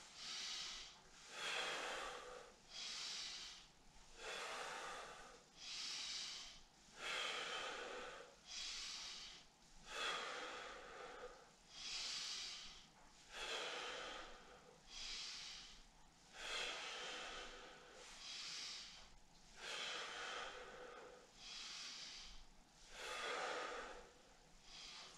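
Steady rhythmic inhales and exhales of kundalini yoga breathing, close and clear, repeating about every two seconds with no talking.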